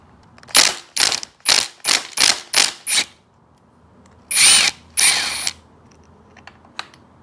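A power drill or ratchet backs a bolt out of a Honda 400ex engine, giving seven quick, loud, close bursts followed by two longer whirs and a short quiet tail.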